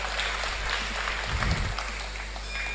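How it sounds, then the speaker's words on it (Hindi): Enthusiastic audience applause at a Hindi hasya kavi sammelan (comic poetry gathering) fills the room, a dense steady patter of many hands clapping throughout, swelling briefly before easing. "एक बार जोरदार तालियां बजा दीजिए।"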